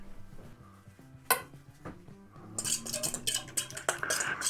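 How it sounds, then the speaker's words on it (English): Homemade Sangiovese wine is stirred with a fork, giving close metallic clinks and scrapes against the container, sparse at first and then a busier burst of rattling taps near the end. "Quickly stir that up a bit."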